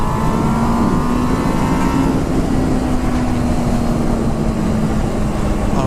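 A motorcycle engine on a short test ride drones loudly and steadily up close, its pitch sliding gradually downward under continuous wind and road noise.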